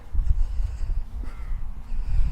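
Several crows caw noisily together outdoors, harsh repeated calls overlapping in a loud, continuous din.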